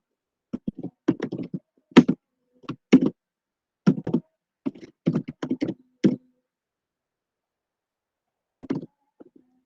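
Close, crisp taps on a computer keyboard as key shortcuts are pressed, coming in irregular clusters of clicks with short pauses and a final pair after a longer gap.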